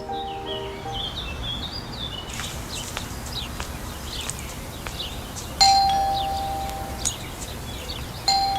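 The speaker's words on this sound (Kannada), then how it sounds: "ರಾಂಗ್ ಡೋರಿಗೆ ಬಂದು ಬೆಲ್ ಮಾಡಿದೆ ಅನ್ಸುತ್ತೆ." A doorbell rings at a house door in a tense domestic thriller scene, two sharp electronic chimes with ringing decay, each sounding alone over a quiet room hush.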